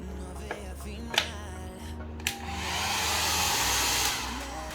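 Hair dryer running in a hotel room in Santorini, Greece, a low droning hum that pulses at first, then swells into a louder, steadier airy whoosh before easing back down.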